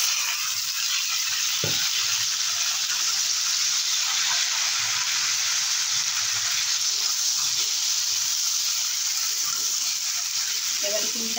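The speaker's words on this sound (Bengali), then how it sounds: "3-4 মিনিটের মতো আলু আর কচুটাকে ভালো করে একটু ভেজে নিলাম" Potatoes and taro fry in hot oil with a steady, bright sizzle throughout and one sharp clink partway through.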